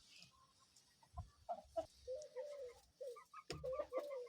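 A rooster clucks and murmurs in a series of short throaty calls, close by, with a few sharp knocks in between.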